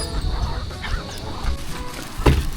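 Chicken clucking and squawking outdoors while being chased by a loose dog, with short agitated calls scattered over a busy background and a sharp louder burst near the end.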